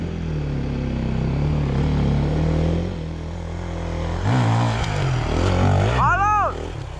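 A retro motorcycle engine idles and revs with a low rumble, rising through a couple of quick throttle blips near the end, with someone talking over it outdoors.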